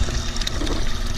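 Pumped water runs over the riffles of a gold sluice outdoors, a dense, steady rushing wash up close for about a second, with no talk.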